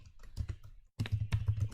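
Rapid keystrokes on a computer keyboard while network interface settings are entered, a steady run of close, crisp clicks with a brief pause partway through and no talking.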